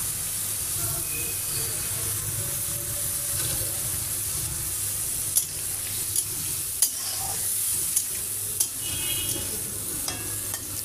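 Raw jackfruit curry stirred in a pan after water is added, a steady wet simmer under repeated scraping and sharp utensil clicks against the pan, close and moderately loud.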